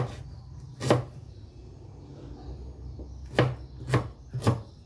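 Marinated chicken inasal is pounded in a kitchen: four heavy, close thuds land singly and then in a quick group of three against a quiet room background.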